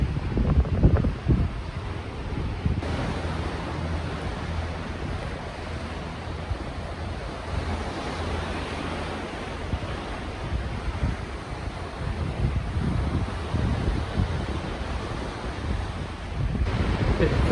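Wind and sea waves aboard the cruise ship Marella Discovery sailing away from Patmos in the Aegean, a steady broadband rush of wind buffeting the microphone over surf, with a low hum of the ship beneath.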